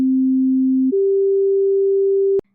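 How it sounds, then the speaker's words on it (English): A steady pure sine tone holds, then steps up a perfect fifth to a second, higher steady sine tone that sustains before cutting off abruptly. "This interval is called a perfect fifth"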